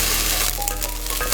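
Soy sauce hitting a hot pan of egg fried rice, a loud close crackling sizzle that holds steady through a brief burst with a little stirring scrape, with no talking.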